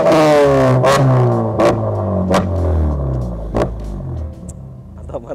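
A Mazda3 with a custom-cut exhaust revs hard several times, each loud blip rising and falling over a deep, steady idle rumble, close up with no talking.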